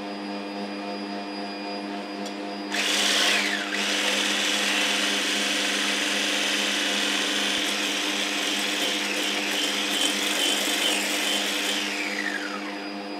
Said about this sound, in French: Entre-temps, on va monter la crème fraîche.